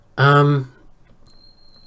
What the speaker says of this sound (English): I've got 3 wind chimes. I've got 2 more over here hanging on branches.